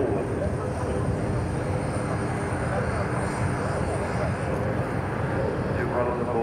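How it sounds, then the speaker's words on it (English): Airbus A321XLR airliner flying past at the Farnborough Airshow, a loud, steady roar of jet engines that stays constant throughout, with a commentator talking over it. "This is one of the three dedicated flight test aircraft currently engaged in the certification flight test program."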